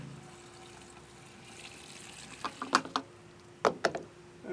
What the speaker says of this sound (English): Now I just gotta dump some fuel in it.